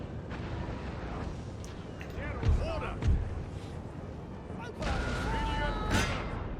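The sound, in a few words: cannon artillery fire in Napoleon: Total War video game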